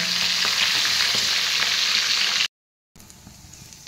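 Food frying in hot oil for a Sunday special meal makes a loud, steady hiss and sizzle close by, which cuts out abruptly into silence and then returns more quietly, with no talking.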